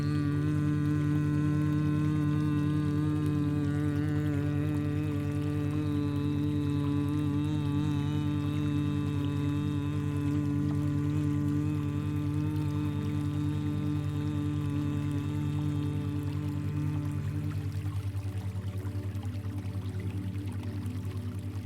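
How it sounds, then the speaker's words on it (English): Several voices hum a long, sustained meditative om together, a steady, close and resonant drone that holds for about twenty seconds before softening slightly toward the end. "we're just doing a long hum"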